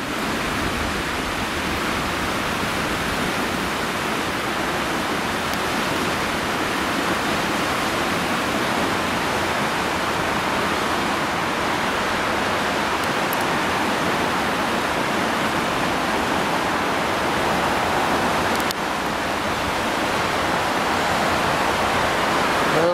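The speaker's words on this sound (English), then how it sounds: "there's a fair drop of water coming over that weir" River Ogmore in February spate, pouring over a weir near Tyn y Garn and Aberkenfig: a loud, steady, broadband rush of falling water that fills the whole stretch without pause.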